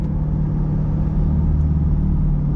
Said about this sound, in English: This is a perfect exhaust for this car.